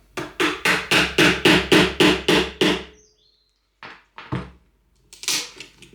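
Small hammer tapping a Ryobi lock jig chisel into a door, about ten quick, evenly spaced sharp strikes close up, then a pause and a few scattered knocks and scraping clunks.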